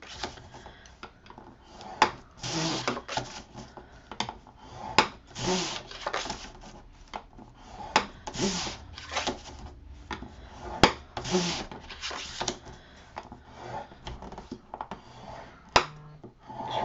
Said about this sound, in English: You're going to score a half an inch on all of these.